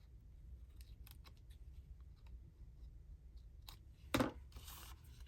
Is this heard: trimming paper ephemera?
yes